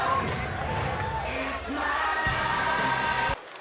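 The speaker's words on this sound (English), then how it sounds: "And here the crowd in Calgary cheering on their hometown guy as AlvinTam with a phenomenal knockout." Hometown crowd in Calgary roaring and cheering after a boxing knockout, a dense sustained wall of shouts and cheers that holds steady before cutting off abruptly near the end.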